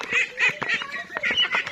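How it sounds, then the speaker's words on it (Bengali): Young goslings and Chinese duck ducklings, about a month and a half old, peep and call repeatedly in short, high chirping bursts close by while being fed shredded cabbage. "এটা আমার হাঁসের বাচ্চা।"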